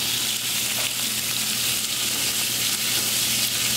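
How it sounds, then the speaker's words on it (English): Small steak cubes sauté in a hot pan, giving a loud, constant sizzle and crackle close up with a faint hum beneath and no voices. "And we're just going to saute them."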